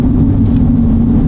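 A Mitsubishi Delica engine roars loudly and steadily under power while climbing, a continuous close, dense rumble with no break through the whole short stretch.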